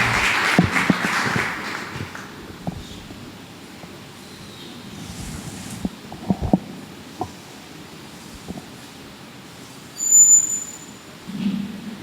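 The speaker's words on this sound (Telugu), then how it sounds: "మనమందరం కూడా చప్పట్లు కొట్టి ఫాదర్ గారిని ఆహ్వానించుకుందాం" A church audience claps to welcome a Catholic priest. A burst of applause at the start fades quickly into a quiet, rustling room.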